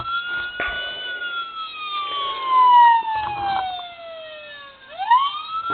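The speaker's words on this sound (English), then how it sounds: "It does have a siren too, so kind of adds to it. Siren's not very loud, but it is a siren nonetheless." Toy police siren from a Motormax 1:24 scale Charger, a thin, tinny electronic wail sweeping up and down in pitch, fairly quiet and close, with a brief click near the start and a rising restart near the end.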